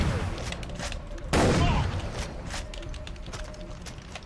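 A single loud shotgun blast in the video game Far Cry 3 cracks out amid a battle, its roar decaying over a second above steady background game noise.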